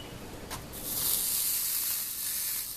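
Beef short ribs sear in a hot skillet, giving a steady close sizzle and hiss that gets louder after the meat goes in and holds on with no talking.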